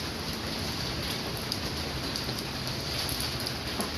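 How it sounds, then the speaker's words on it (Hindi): Steady, dense rain pours down close by during the rainy season at an outdoor biryani cooking site, a continuous hiss of falling drops with no pauses and no voices. "बारिश का मौसम है"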